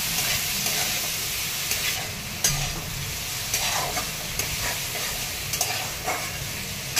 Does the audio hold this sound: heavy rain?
no